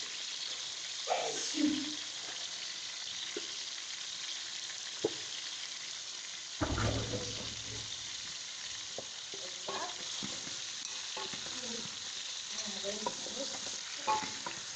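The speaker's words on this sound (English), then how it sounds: "I'm gonna mix till the onions and the garlic turn brown." Onions, garlic, carrots and green pepper sizzle steadily in a pan while a spoon stirs them, with scraping strokes and a louder clatter midway; faint talk drifts in at times.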